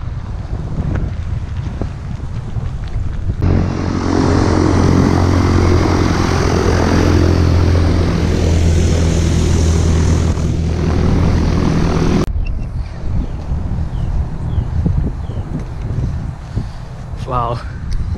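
A Cessna 152 propeller engine roars loudly and steadily for several seconds amid wind noise, then cuts back, with voices talking before and after.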